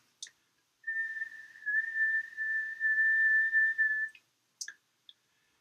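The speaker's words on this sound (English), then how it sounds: "This is a tone very much like a whistle on a steady frequency." A steady whistle-like test tone holds one pitch for about three seconds, clean and fairly loud against silence. A few short clicks come before and after it.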